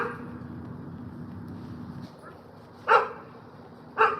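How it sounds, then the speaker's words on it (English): A dog barks from upstairs in a home, two short sharp barks about a second apart, somewhat distant, after a stretch of low background hum. "He up there barking like he a big dog."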